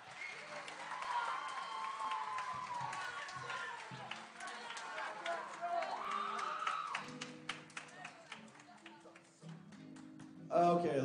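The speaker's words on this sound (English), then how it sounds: "Let's give these students one more round of applause," Applause from a school concert audience for orchestra and band students, a sustained patter of many hands with murmuring voices, fading toward the end before a sudden louder burst.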